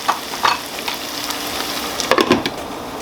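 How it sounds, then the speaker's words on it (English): Onions fry in a pan as a spoon stirs them, a close sizzle broken by a few sharp scraping and clattering strokes near the start and end, with no voices. "it's just onions anyway, but you just want it to be really cooked, really soft"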